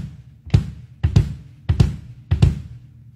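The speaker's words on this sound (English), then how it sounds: "Here's another way I do my double strokes heel up." Kick drum pedal worked heel-up with an alternate double-stroke technique, four tight pairs of low thuds in a steady rhythm, near and solid with no voices.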